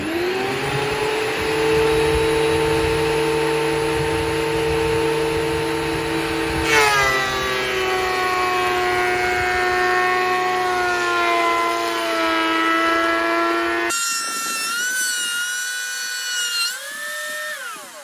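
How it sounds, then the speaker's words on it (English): A Hercules planer smooths rough-cut lumber boards for sauna wall panels, a loud continuous motor whine with shifting pitch as boards feed through, the tone stepping up near the end, with no talking. "So we got a planer set up."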